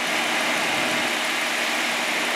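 The 3.6-liter engine of a 2013 Chrysler Town and Country runs at a steady idle, heard close from the open engine bay as a continuous, even broadband whir with no talk.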